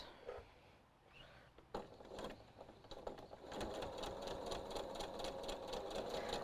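A sewing machine with a quarter-inch foot chain pieces quilt blocks; after a few quiet handling clicks it runs in a fast, steady, close mechanical whir for the last few seconds.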